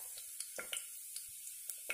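Fennel seeds hitting hot oil in a pan for tomato rice give a faint, steady sizzle, with a few soft crackles and pops breaking through at irregular intervals.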